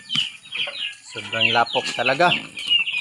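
Ducks quack in short, nasal bursts close by, several calls overlapping, while a person talks over them.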